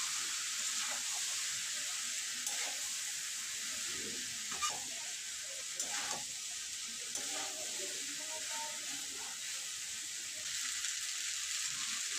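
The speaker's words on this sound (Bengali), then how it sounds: "সবজির সঙ্গে পাস্তা ভালোভাবে মিক্স করে নেব" Boiled pasta being stirred with vegetables and soy sauce in a pan, a quiet steady sizzle and hiss with occasional soft scraping and clinking of the utensil.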